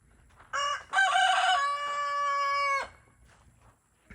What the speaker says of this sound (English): All these roosters are waiting like, yep.